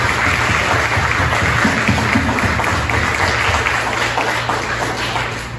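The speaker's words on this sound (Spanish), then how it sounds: "¿Por qué no le damos un aplauso al Señor por la salvación que tenemos?" A church congregation applauds during a Sunday service, a loud, even wash of clapping that holds for several seconds and slowly fades near the end.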